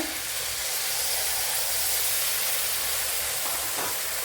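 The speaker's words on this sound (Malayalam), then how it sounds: "ഇതിലേക്ക് ഇനി അരച്ചു വെച്ച അരപ്പിൻ്റെ ശകലം വെള്ളം ഒഴിച്ചു കൊടുക്കുക" Water poured into a hot pan of ground chutney paste for a pappadam chutney, giving a loud, steady steaming hiss that runs unbroken the whole time, with no voices over it.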